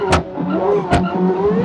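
An engine revs and rises in pitch as a car in a life-simulation video game drives off, with a couple of brief sharp bursts over the climbing drone.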